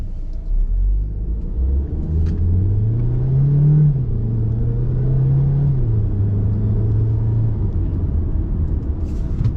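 A 2021 MG HS AWD SUV cruising along, with a steady low engine drone and road rumble that holds even and continuous throughout, the pitch rising slightly then settling.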